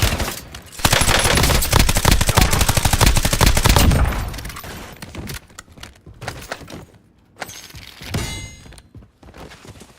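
Rapid automatic gunfire in the video game Warzone, a dense loud burst of shots for several seconds, then scattered single shots and clanging impacts trailing off.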